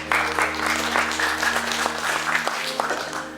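An audience claps steadily for a speaker at a business event on Australia and China, a dense round of applause filling the whole short stretch alone.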